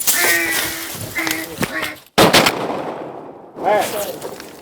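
A single loud, sharp shotgun blast during a duck hunt cuts through voices and duck calling, followed by a rumbling echo that fades before more talking resumes.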